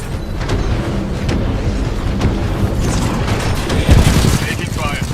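Gunfire in the video game Titanfall 2, dense and continuous low booming bursts with a sharper blast near the four-second mark, mixed with game effects and voices talking over it.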